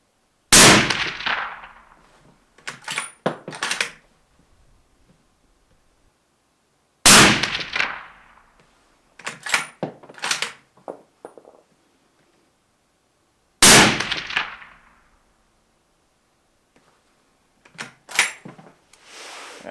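Three sharp, loud hunting rifle shots ring out at even intervals of about seven seconds. Each is followed by faint distant metallic clanks from steel targets, with quiet between shots and no speech.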